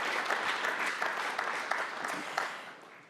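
A short burst of audience applause at a city's State of the City address, moderately loud clapping with a few sharper accents that tapers off at the end.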